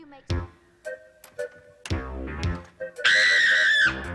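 A girl's high, shrill scream rings out near the end, following a stretch of short bursts of voices and thumps.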